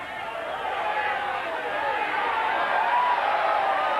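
A stadium crowd at a 1992 rugby league match between Queensland Residents and Great Britain roars in support of the Queenslanders, a broad, sustained swell of cheering that builds slightly as it goes, with voices mixed into the noise.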